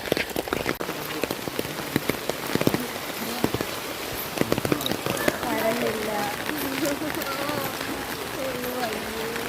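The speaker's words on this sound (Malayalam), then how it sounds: "ഭയങ്കര മഴയാ" Heavy rain pours steadily throughout, with dense patter and splashing drops during a power outage, while a voice speaks partway through under the downpour.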